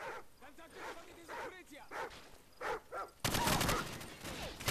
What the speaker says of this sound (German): Bitte keine Hunde.